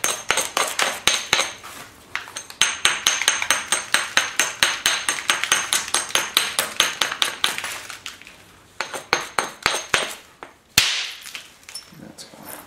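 Stone knapping a thin biface, with sharp, ringing percussive strikes at a steady, rapid rhythm for several seconds, a short pause, then further bursts of blows, close and loud with no talk.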